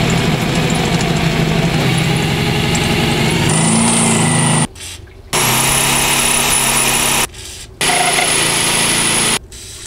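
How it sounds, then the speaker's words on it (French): A loud power drill whirs continuously, cutting off the head of a rusted screw on a Renault Rodius chassis, cutting out briefly twice before starting again, close up with no talking. "Donc, perceuse."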